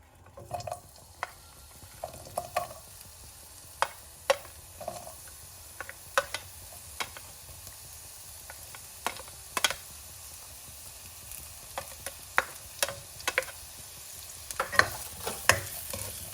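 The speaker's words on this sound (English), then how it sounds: "Let the onion become a little bit translucent, then we can add other ingredients." Onions frying in a pan over medium heat, a steady soft sizzle under frequent light clicks and scrapes of a utensil stirring against the pan, close and fairly quiet.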